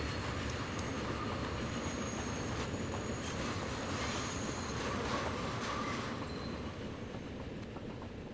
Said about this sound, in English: Wow, listen to the flange on them coaches.